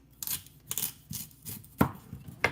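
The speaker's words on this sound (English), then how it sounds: "so I may be chopping some onions" Onions being chopped with a knife on a cutting board while preparing postpartum meals, giving about six crisp, fairly quiet strokes at an irregular pace with soft background noise.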